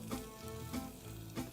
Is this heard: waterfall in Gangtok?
no